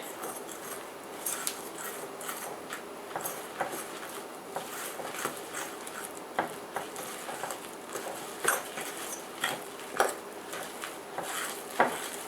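Flour is worked into scrambled eggs to make egg noodle dough, giving soft, irregular scraping and clinking of a utensil against a bowl, with quiet scattered taps. The sound is close and fairly faint, and no one speaks.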